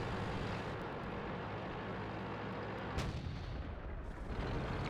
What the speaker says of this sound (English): So artillery is hitting hard here.